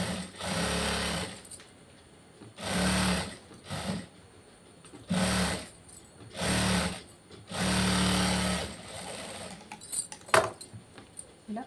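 Sewing machine stitching the reverse side of a prince-cut back-open blouse, running in five or six steady bursts of a few seconds each with short pauses between, close and clear with no talking.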